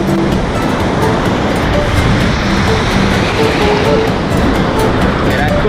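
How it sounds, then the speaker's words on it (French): Surf breaking on a Pacific beach in Baja California, Mexico, a loud, dense, continuous wash of crashing waves filling the whole stretch with no pauses. "il y a des vagues hein."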